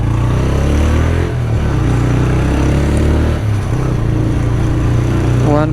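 A motorbike heavily loaded with a sack of rice rides along a rough track near a stream, its engine droning low and steady throughout, with brief talk over the ride.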